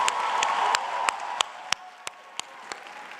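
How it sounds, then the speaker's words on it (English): A commencement-ceremony audience applauds department staff, steady dense clapping from a crowd that gradually fades, with a few louder individual claps standing out near the front. "please join me in a round of applause for our amazing staff"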